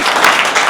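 A symposium audience claps after a keynote lecture by a former unification minister, a brief steady burst of many hands clapping together.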